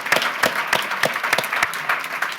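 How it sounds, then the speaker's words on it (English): Applause from the audience of a panel discussion on U.S.-China early childhood development collaboration, a small group clapping steadily with distinct rhythmic hand claps, fairly close and moderately loud. "let's give this panel a nice round of applause."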